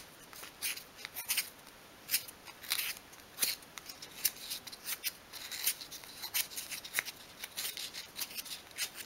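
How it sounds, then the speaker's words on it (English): Sandpaper rubs along the edges of a 1/12 scale miniature wooden chest-of-drawers leg in quick, irregular light scratchy strokes, close and fairly quiet. "Just sweeping the sandpaper over the bottom of the leg like that at each side."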